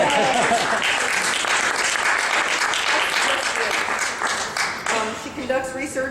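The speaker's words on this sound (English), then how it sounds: "applause." Sustained applause from an audience at a college event honoring a newly promoted physics and astronomy professor, dense steady clapping for about five seconds that thins out near the end as a voice begins over it.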